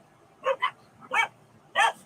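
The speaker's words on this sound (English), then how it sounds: "Excuse the dogs." Dogs bark in four short, sharp yips, two quick ones then two spaced apart, fairly near and with no talk.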